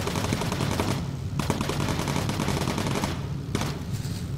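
Gunfire from bomber gun turrets in the aerial combat game Bomber Crew, a loud, continuous stream of rapid machine-gun bursts with brief pauses, no voices over it.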